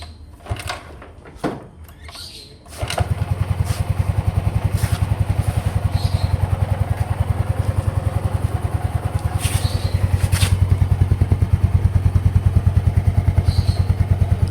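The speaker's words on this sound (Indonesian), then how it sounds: "coba kita nyalakan motornya." A Yamaha Mio M3 scooter that lost compression is started after several clattering kick attempts, then its small engine settles into a steady, loud, close idle with a fast regular putter.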